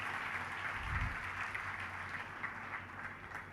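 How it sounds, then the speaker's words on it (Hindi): Applause from an audience at a religious discourse in India, a steady, moderately distant wash of clapping that lasts the whole stretch, with a low thump early on. "इस समाज की बेटी के लिए जोरदार तालियां बजाकर इसका स्वागत किया"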